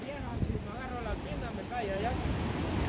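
Ocean waves break and wash onto El Tunco beach in a steady surging roar, with gusty wind buffeting the microphone while people talk and call out over it.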